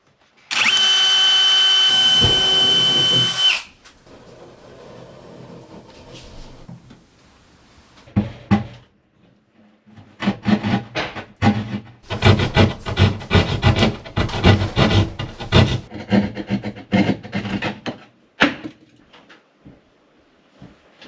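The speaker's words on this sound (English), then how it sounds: "Now I'm gonna drill through so I can locate it from the other side" A power drill whines steadily for a few seconds, then stops; after a pause come repeated gritty grinding and rasping bursts as the bit bores through a wall.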